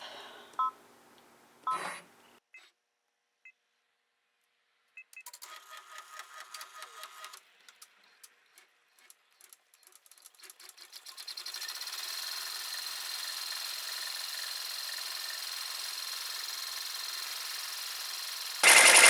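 An embroidery machine stitches an in-the-hoop bat snap tab, beginning with scattered clicks and short mechanical bursts, then settling into a steady, fast, whirring stitch rhythm that carries on to the end.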